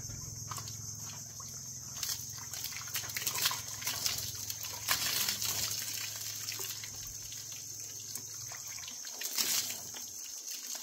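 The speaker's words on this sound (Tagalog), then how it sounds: "So magbabanlaw kami gamit yung tubig ulan." Rainwater poured from a water tank for rinsing off while bathing: a steady trickle and splash of falling water runs for about ten seconds with small bursts of spattering, close by and fairly soft, with no talking.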